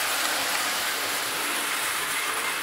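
A 1930s Hoge 900 toy locomotive runs on its track, giving a continuous, fairly loud metallic whirring rattle with no pauses.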